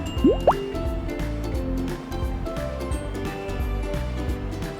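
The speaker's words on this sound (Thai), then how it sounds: "ต่อไปค่ะเราจะใส่ส่วนผสมของเหลวลงไปนะคะ" Liquid ingredients being poured into a cocoa and flour batter for vegetarian brownies, with close splashing and dripping over a steady mixing clatter.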